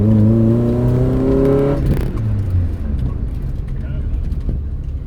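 A Toyota car is driven hard on a Silverstone test course, its engine droning and rising in pitch before easing off, loud and close with road and wind noise continuing underneath.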